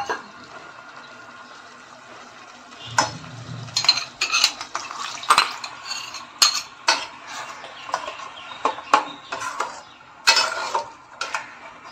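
Washing water is poured into an earthen cooking pot of egg curry on high heat and stirred, with repeated clinks and scrapes of utensil on pot in an irregular rhythm, near and fairly loud.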